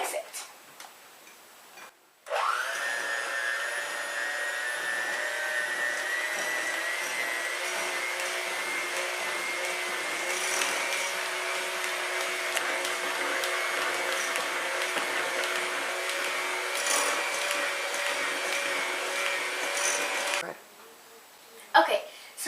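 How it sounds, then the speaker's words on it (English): An electric hand mixer beats batter in a home kitchen, whirring steadily and close for about eighteen seconds with a faint ticking rattle, then stopping. "And then you take a hand mixer and you mix it."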